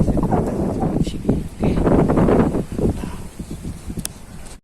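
Gusty wind buffets the microphone at a windy, wave-washed seaside fishing spot, a steady low roar that swells and dips in uneven gusts throughout.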